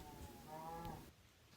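A cow moos in the Minecraft video game, one drawn-out low call lasting about a second that then cuts off, with no talking over it.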